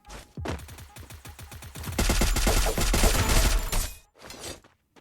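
Rapid gunfire in the shooter game Free Fire: quick bursts of close, sharp shots, then a dense, loud stretch of sustained automatic fire with clattering impacts, followed by a few final shots, with no voices.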